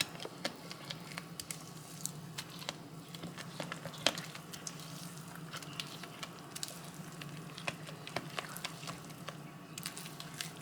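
Ingredients for a Caribbean Easter spice bun are mixed in a bowl, giving faint, scattered clicks and light tapping scrapes over a soft background hiss throughout.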